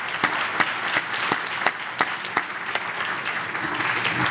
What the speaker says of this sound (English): Let's give a warm round of applause to our panelists.